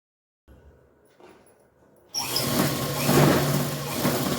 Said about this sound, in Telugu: మనము దీనిపైన కుట్టు వేసుకుందాము